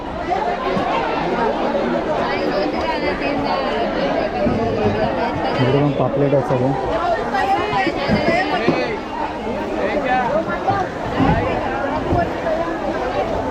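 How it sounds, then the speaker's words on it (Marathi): Dense crowd chatter fills the crowded Malad fish market in Mumbai, a constant babble of many voices with scattered calls and bustle, while a nearby person talks over it. "भरपूर गर्दी आहे इकडे"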